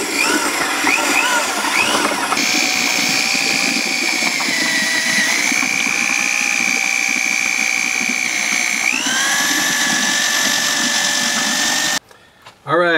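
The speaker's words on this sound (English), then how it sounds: "I've taken a drill and I mixed that up a bit" A handheld drill with a whip attachment whirs loudly and continuously, its pitch rising and dipping as it churns thick clay slurry, then cuts off abruptly near the end.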